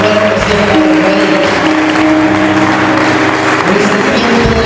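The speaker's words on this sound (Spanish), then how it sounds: "Den un fuerte aplauso al Señor." A church congregation applauds loudly and continuously, dense clapping from a crowd filling the space throughout.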